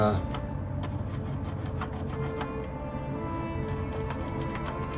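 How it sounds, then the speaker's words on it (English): An eraser rubs gently over the main deck of a Revell 1:426 U.S.S. Arizona plastic model ship, giving a soft, continuous scrubbing with faint repeated strokes over a steady background hum. "I'm going to take an eraser and we're going to gently go over some of the"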